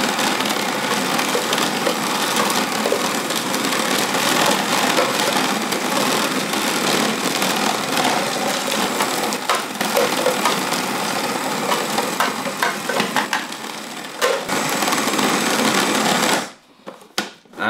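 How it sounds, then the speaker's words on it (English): A food processor runs at high speed, blending Leberkäse meat dough with ice for Bavarian meatloaf. It gives a loud, continuous whirring grind with rattling texture, then cuts off near the end with a few faint knocks. "you can increase the speed of the food processor"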